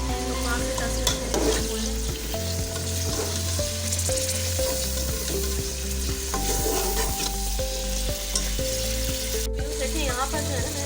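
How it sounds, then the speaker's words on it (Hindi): Bone-in mutton sizzles steadily in a pot as it is fried bhuna-style, with continuous stirring and scraping and a low hum running underneath. "यहाँ पर जो है ना मैंने गोश्त को भून लिया है"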